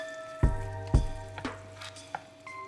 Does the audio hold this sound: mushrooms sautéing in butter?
yes